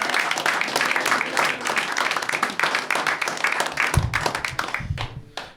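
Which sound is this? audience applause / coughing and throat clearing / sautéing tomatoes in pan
audience applause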